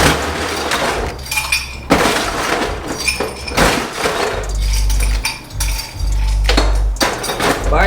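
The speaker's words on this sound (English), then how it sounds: "Of course, you wanna put ice in your glass." Ice cubes clatter into a cocktail glass while margaritas are mixed, a run of loud, close glassy clinks and rattles in repeated bursts, with no talking.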